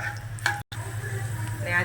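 Peanuts frying and crackling in oil in a pan while cooking savory sev at home, a steady close sizzle with light stirring scrapes and a brief cut partway through.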